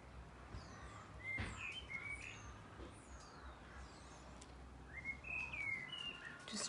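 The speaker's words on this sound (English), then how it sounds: "can you hear that odd bird song in the background?" Odd bird song drifts in from a distance, a scatter of faint chirps and whistled phrases over a soft outdoor hiss, with no talking.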